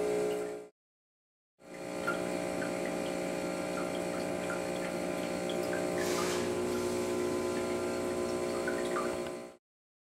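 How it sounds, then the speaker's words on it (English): A heat exchanger espresso machine runs rinse water through its group head with a steady pump drone and rushing water. A short burst comes first, then a brief pause, then a continuous run of about eight seconds. "So about 500 milliliters of water through the group to rinse it out."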